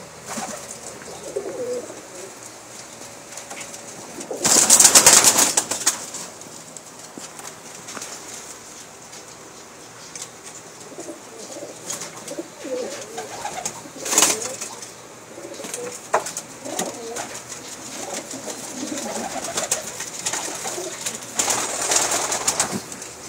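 Pakistani pigeons of the Dab Wali Mati and Golden breeds coo softly in a loft, with a couple of loud bursts of wing flapping or scuffling and scattered small rustles between.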